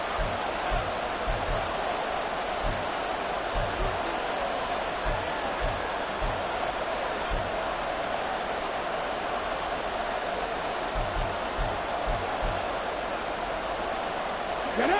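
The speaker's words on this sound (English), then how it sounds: "This crowd turning up the decibel level." Football stadium crowd roaring on third and long, a broad steady wash of noise that stays loud and dense throughout, with faint thumps underneath.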